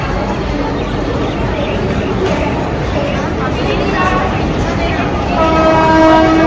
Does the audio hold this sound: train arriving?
yes